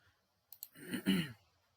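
A computer mouse gives a couple of quick, faint clicks when a Start a Call button is pressed on an AI agent web page, followed by a soft breathy sound.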